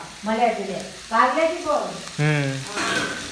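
Okra sizzles as it fries and is stirred in a kadhai, with a steady hiss under several bursts of close talking voices that dominate the short stretch.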